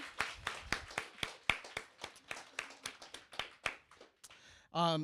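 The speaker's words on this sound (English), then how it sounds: "I think an early round of applause will help them" A small audience at a senior reading event claps in a faint, sparse, fairly even run of about twenty distinct hand claps, and a short voice comes in at the end.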